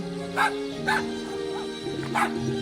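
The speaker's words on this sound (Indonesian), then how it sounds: "Suara gonggongan apa itu?" A cartoon dog in the Homescapes mobile game gives several short, close barks and yips in a quick irregular series over a steady musical background.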